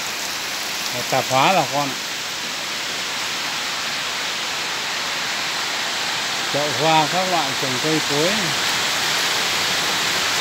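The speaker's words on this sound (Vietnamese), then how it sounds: "mưa lắm bà con" Heavy rain falls during the rainy season as a steady, loud hiss that fills the whole stretch, while someone speaks in short bursts over it.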